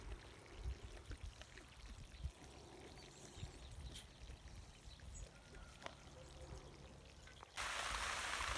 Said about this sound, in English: And so right here he's watering the trees